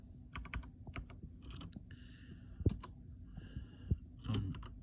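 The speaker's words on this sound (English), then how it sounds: "let's type it in." Typing on a computer keyboard to look up car parts, a steady run of close, crisp key clicks in short irregular bursts with brief pauses.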